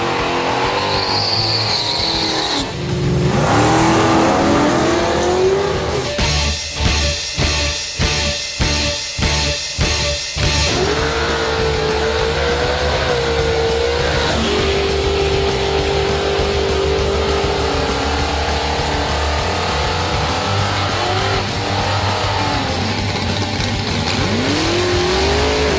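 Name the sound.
race cars at Ford Nationals, Calder Park Raceway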